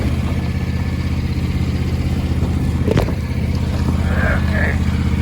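A John Deere X350 riding mower engine runs at a steady, loud idle throughout, with a brief clatter in the middle and faint higher tones near the end.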